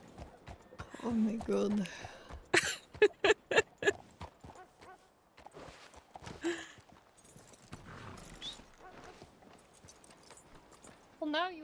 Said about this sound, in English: Well, now you get your horse.